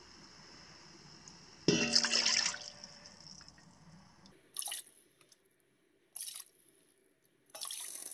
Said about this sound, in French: on rajoute du jus de cuisson.